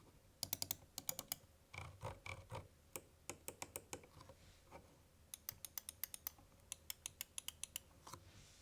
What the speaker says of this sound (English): to give you guys a better idea of what the buttons sound like, here's a quick sound test.